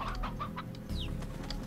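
Chickens cluck in the Slime Rancher video game, a quick run of close, fairly loud clucks with a short squawk partway through.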